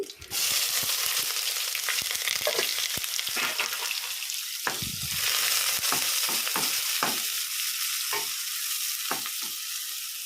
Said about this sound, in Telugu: ఉల్లిగడ్డలు మంచిగా నూనెలో మగ్గాలి